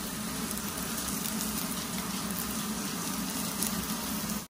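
Onions sizzling in hot oil with garlic, green chilli and ginger while making chicken cutlets, a steady close hiss and crackle throughout.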